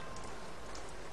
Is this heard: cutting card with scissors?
no